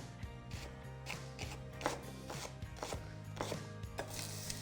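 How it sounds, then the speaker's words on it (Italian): A knife slices a leek into thin rounds on a cutting board, making a quick series of crisp, evenly spaced cuts close by over a low steady background hum. "Lo taglio a fettine."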